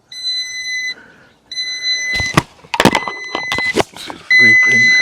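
A portable jump starter with power bank beeps in repeated high, steady tones once its leads are connected, with pauses between bursts and handling clatter in the middle; fairly loud and close.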